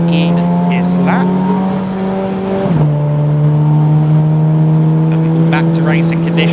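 A Golf TDI and a TT TFSI race at Snetterton, their engines holding a loud, sustained droning tone that dips briefly as a gear changes, with a commentator talking over the racing.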